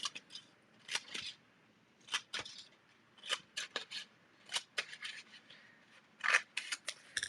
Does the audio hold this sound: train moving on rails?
no